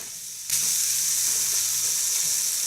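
Liver and onions sizzle hard in a hot pan, a steady loud frying hiss that starts abruptly and holds on without pause, no voices.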